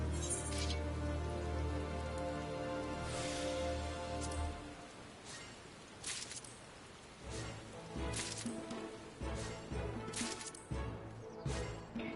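Steady rain patters across surfaces in the Final Fantasy XIV world, loud at first and then thinning out partway through, leaving scattered drops and occasional sharp clicks behind.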